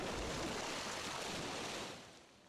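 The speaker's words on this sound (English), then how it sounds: "leaving nothing but the sound of water rushing by" Water rushing by underwater near a deep-sea wreck, a dense, steady wash of noise that runs loud and unbroken before fading toward the end.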